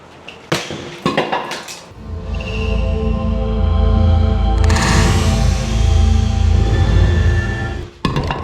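A DeWalt 20V cooler dropped from shoulder height hits the ground with a sharp crash and clatter of plastic, followed by a long loud rattling rumble as it settles, then a final knock.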